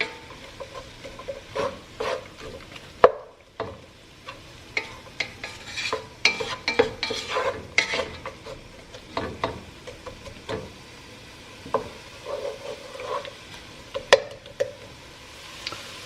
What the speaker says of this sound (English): So let this cook for about 3 to 4 minutes. You don't want the onions completely brown.